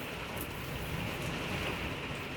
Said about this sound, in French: La pluie reprend.